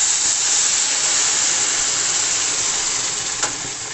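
Chicken broth poured into a hot pan of rice with carrot hisses in a steady, loud sizzle that holds nearly unchanged throughout, with a faint pop near the end.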